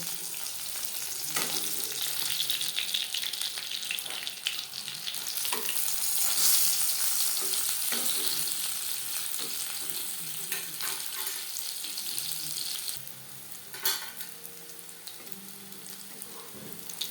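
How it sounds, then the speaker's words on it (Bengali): Pabda fish sizzles and crackles in hot oil while being fried crisp, a steady hiss that swells midway, with occasional scrapes and clinks of a utensil nearby. "কিস্তি করে ভেজে নেব"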